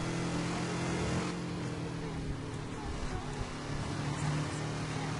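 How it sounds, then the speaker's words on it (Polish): A pursuing car in the Driver: Parallel Lines video game gives a steady, rough engine roar close behind throughout. "Doganiają mnie samochodem z tyłu."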